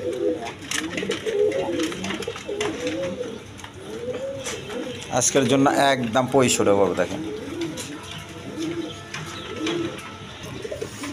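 A pair of black American fantail pigeons repeatedly coo in soft rising-and-falling phrases close by, while someone talks over them.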